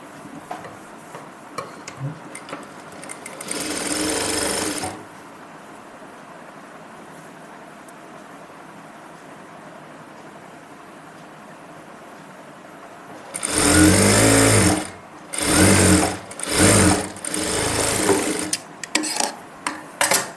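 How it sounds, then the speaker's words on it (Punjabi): A sewing machine stitches a pocket onto a salwar in loud close bursts: one short run, a long pause, then several quick runs in succession separated by brief stops. "ਉੱਪਰ ਵਾਲੇ ਕੱਪੜੇ ਦੇ ਨਾਲ ਠੀਕ ਹੈ ਆਪਾਂ ਨੇ ਸਲਾਈ ਕਰਨੀ ਹੈ"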